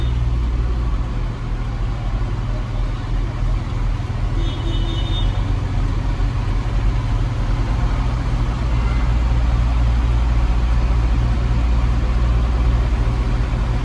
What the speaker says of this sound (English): Just at that speed now that it's shaking the tractor, the tyres, you can feel every lug hitting the road